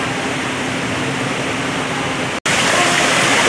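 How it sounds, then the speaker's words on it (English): Steady, dense rushing water roars continuously, close and loud, from a waterfall at Mesker Park Zoo and Botanic Garden in Evansville, Indiana, with a brief cut before the noise resumes slightly brighter. "Got this awesome waterfall"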